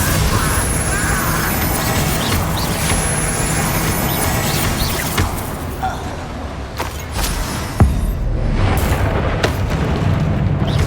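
Bombarda and Confringo explosion spells cast in the Hogwarts Legacy video game: a loud, dense, continuous roar of blasts and rumbling effects, with a sharp boom near the end and a voice calling out.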